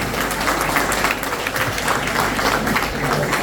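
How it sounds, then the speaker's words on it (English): Steady audience applause for young kids at a parenting workshop held at a Christian school, a dense, continuous wash of many hands clapping for several seconds, fairly loud and even throughout. "Give them a big round of applause."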